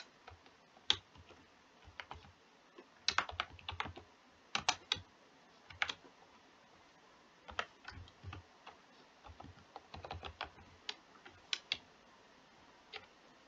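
Quiet typing of shell commands on a computer keyboard, with irregular clusters of light key clicks and brief pauses throughout, heard close and alone without speech.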